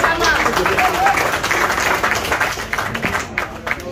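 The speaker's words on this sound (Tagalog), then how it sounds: "Palakpak naman mga kasama!" Applause and clapping from a live street-market audience, dense and steady throughout, mixed with crowd chatter and a talking voice.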